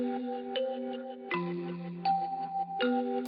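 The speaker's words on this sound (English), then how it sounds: "I played the mallet thumb piano and then processed it with some transit and some halftime" Mallet-struck thumb piano processed with reverse and halftime effects, giving slowed, smeared tones that swell and sustain, a few soft notes changing pitch every second or so, fairly quiet with no voices.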